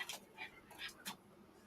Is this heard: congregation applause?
no